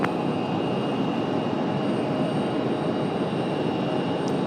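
Steady broadband roar of an Airbus A321 jet's engines at Raleigh-Durham airport, continuous and fairly loud throughout with no voices.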